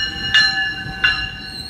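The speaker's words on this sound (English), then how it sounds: "And watch the train come in." A train pulls into a station, loud and close, with sustained metallic squealing wheel tones and two sharp clanking bursts as the cars roll past, with no talk.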